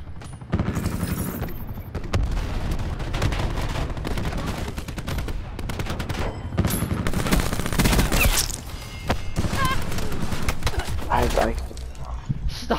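Gunfire in Call of Duty: Black Ops 4 as shots are fired through a wall, with dense, continuous bursts and booms under players talking over game chatter.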